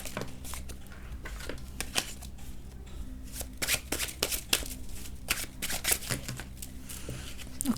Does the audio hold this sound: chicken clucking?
no